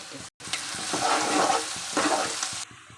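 Ginger garlic paste and turmeric sizzle loudly in a pan, with swells of frying as the mixture is stirred, a brief cut near the start and a quieter tail at the end.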